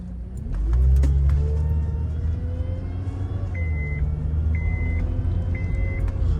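A 2009 Honda Accord with a replaced front passenger-side axle pulls away on a short test drive around the block, its engine droning steadily and rising in pitch over a low road rumble, with a repeating electronic tone chiming in now and then.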